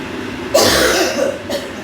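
A single harsh cough bursts out, followed by a shorter second cough a moment later, fairly close and loud over a quiet room.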